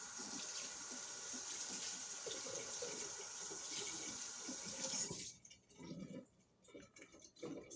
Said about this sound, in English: I'm just going to dip this into more water